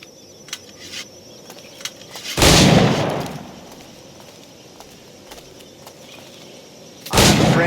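Two loud broadband blasts of firearm shots from Assassin's Creed Black Flag, the first near the start and the second at the end, spaced over several seconds against a quiet ambient background with faint ticks.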